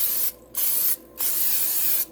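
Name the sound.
spraying Pam cooking spray into a crock pot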